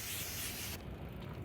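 A close, airy hiss of spray sunscreen, Alba Botanica, misted over a made-up face outdoors, lasting under a second before cutting off abruptly to quiet background.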